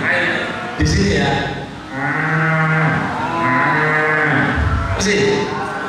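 A man imitates a cow's moo, giving several deep, drawn-out lowing calls in succession, each swelling and fading, loud and close with brief gaps between them.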